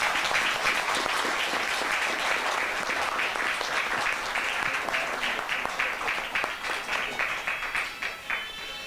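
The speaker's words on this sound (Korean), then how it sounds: "은영신 보살님 박수 한번 쳐주세요" Applause from a gathering at a Buddhist temple scholarship award ceremony, dense clapping that holds steady and then thins into separate distinct claps as it fades.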